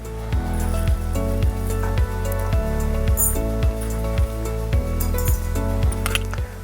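Urad dal sizzling and crackling steadily in hot oil, a dense continuous fry with scattered sharp pops and clinks from the pan, close and fairly loud with no talking.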